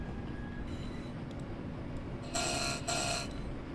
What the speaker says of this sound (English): we'll drop the cab window so we can hear those lovely engine sounds a bit more, motor sounds